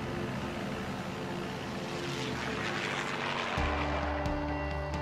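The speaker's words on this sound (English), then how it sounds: "the McMurray Aviation Fleet includes 4 float planes on wheels" Propeller float plane on wheels at Fort McMurray Airport, its engine droning steadily and loudly, then the pitch and tone shifting partway through as it changes power.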